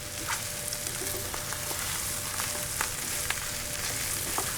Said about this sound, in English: I'm gonna drop our par-cooked rice into our onions, our jalapenos, our pepperoni,